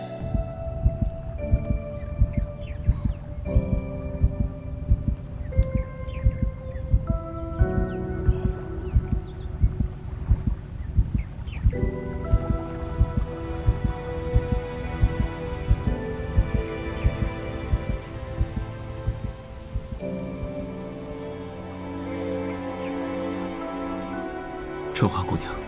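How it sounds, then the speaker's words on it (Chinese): A magical island in a wuxia fantasy drama gives off a heartbeat: steady, evenly spaced low thumps that repeat throughout beneath sustained musical tones. "在主人心动的时候，凤鸣岛会发出心跳的声音"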